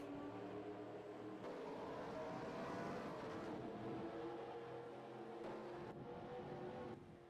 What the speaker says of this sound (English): that is the command to fire up the engines here